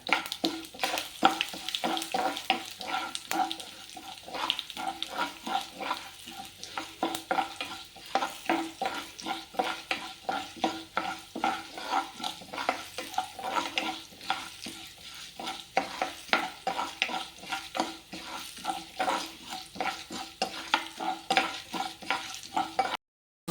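Urad dal and asafoetida fry in a pan with a steady, soft sizzle, while a spoon stirs and scrapes in quick repeated strokes throughout, close and without talk.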